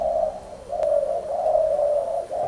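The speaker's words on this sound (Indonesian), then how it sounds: "Nama lainnya adalah burung tekukur atau derkuku." Spotted dove, also known as tekukur or derkuku in West Sumatra, cooing in a steady run of soft, low coos, fairly close and unbroken except for a brief dip, with no talk over it.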